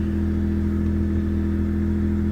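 A Mitsubishi 3000GT VR4 with a newly installed ChromeECU settles into a steady, close idle right after first start, holding an even low drone throughout with no voices.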